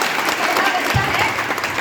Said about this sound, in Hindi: IM करण चौहान के लिए तालियां बजाइए सबसे पहले।